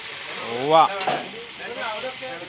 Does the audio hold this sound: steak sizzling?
yes